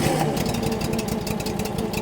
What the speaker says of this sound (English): turn it on, crank it till it starts